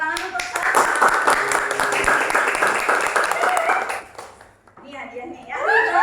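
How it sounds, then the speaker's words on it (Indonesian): A classroom audience applauds a student named Salsa during a microteaching lesson, brisk clapping for about four seconds that dies away, followed by people talking. "Ya, tepuk tangan untuk Salsa"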